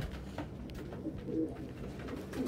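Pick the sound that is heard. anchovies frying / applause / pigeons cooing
pigeons cooing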